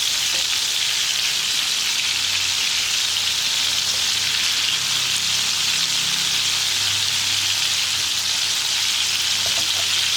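Halved tomatoes fry in hot oil in a pan, giving a steady, dense sizzle that stays loud and even throughout, close by, with no talking.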